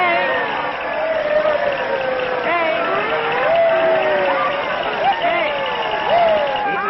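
A New Year's Eve street crowd murmurs and calls out in a steady babble, with nearby voices rising over the din in an old 1938 film.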